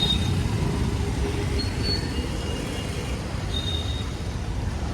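A road traffic jam on a hillside route near a village gives a steady, dense rumble of idling engines and vehicle noise, with faint high squeals and no voices.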